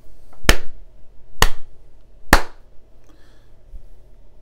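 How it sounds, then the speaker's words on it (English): Three sharp, loud hand claps, spaced about a second apart, used as a sync marker for a separately recorded audio track, ringing briefly in a quiet room with no talking. "With a clap."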